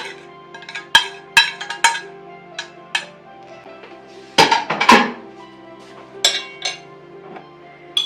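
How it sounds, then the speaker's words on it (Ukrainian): A utensil clinks against a plate while grated onion is mixed into minced meat. Sharp, close taps and scrapes come in irregular bursts, clustering heavily near the middle, over an otherwise quiet background. "Будемо перемішувати цибульку з фаршем"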